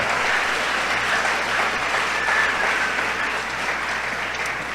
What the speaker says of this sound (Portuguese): Não precisa aplaudir não.